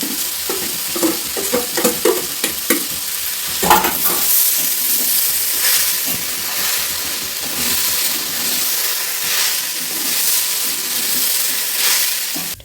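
Daliya with fried dal is stirred in a pan, spoon scrapes close and clear at first, then fades into a loud, continuous sizzle and hiss of frying.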